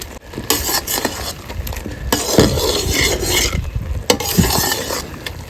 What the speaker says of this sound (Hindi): घी को कर लेते हैं जी अच्छी तरह मिक्स